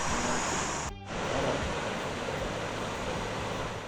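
Overflow water from Mzima Springs in Tsavo West, Kenya, rushes past in a loud, unbroken roar that dips only for a moment before surging back at full strength.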